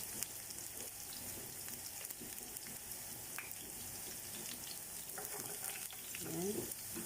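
Garlic goes into a hot pan where onion is already sautéing, part of cooking pancit canton guisado; a steady, close sizzle of frying runs throughout, with light stirring scrapes and a slightly louder burst of crackle near the end.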